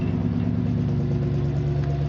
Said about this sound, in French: Voilà, double sortie d'échappement, un joli ronronnement.